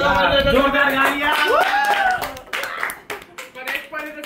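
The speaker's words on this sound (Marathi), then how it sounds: "जोरदार टाळ्या" Loud, dense applause from an audience at a cultural night, with clapping throughout. Voices and a whistle-like rising tone sound over it, and the clapping thins out toward the end.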